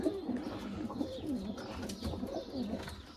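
Play pigeons in a coop give soft, repeated low cooing calls at close range, rolling and overlapping in a quiet room.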